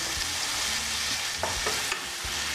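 Caramelized apples cooked in melted butter and stirred in a pan for crêpes, a loud continuous sizzle with short scraping strokes of the utensil, close up, with no talk.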